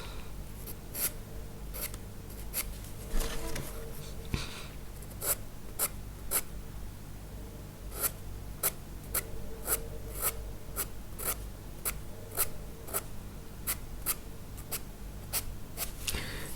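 Colored pencil shading on paper for a mixed media red robin drawing, laying darker orange: steady close scratchy strokes in quick rhythmic bursts, continuous and alone without talking.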